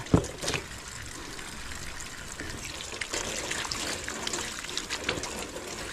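Water from a newly dug spring near a hut flows and splashes steadily, a close, continuous wash with a few brief louder gushes and no talk.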